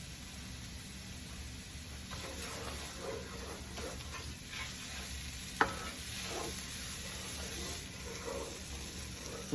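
A spoon stirs rice and garlic in a pot with faint scraping and a soft sizzle, in quiet, uneven strokes and one sharp clink partway through.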